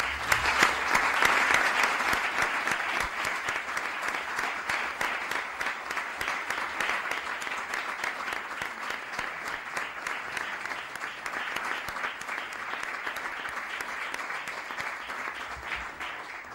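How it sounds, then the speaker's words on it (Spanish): Long, steady applause in a municipal council chamber after a medal of the town is awarded to a football veterans' association, dense clapping that swells early and then holds evenly for over fifteen seconds. "Un aplauso."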